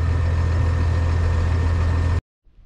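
A truck engine idles steadily to let a hot turbo cool down. The low diesel rumble is loud, close and even, then cuts off abruptly near the end.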